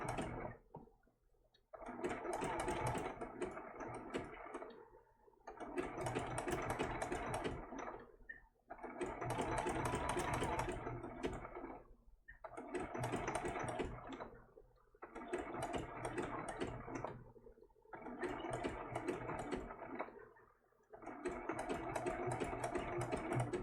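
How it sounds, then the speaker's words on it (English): A sewing machine runs a zigzag stitch on a baby turtle applique for a quilt, in steady bursts of a few seconds each, with short pauses between them. It is close and fairly loud, and no one speaks. "I'm just going to continue to stitch that eye all the way over until it meets that side right"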